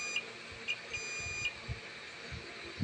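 A continuity tester sounds short high beeps against a shorted transistor, three or four faint tones close together in a quiet room with some low handling thumps.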